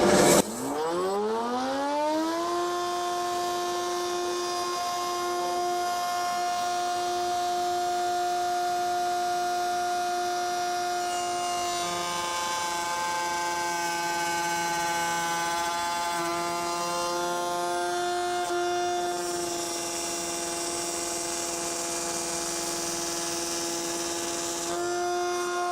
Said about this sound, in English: I'll fire up the dust collection, switch on our router